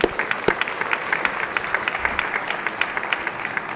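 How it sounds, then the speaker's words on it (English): Scattered applause from a crowd on a state Senate floor, a steady patter of clapping with a few sharper claps standing out, moderately loud and continuing throughout. "If you would please stand and give them a round of applause."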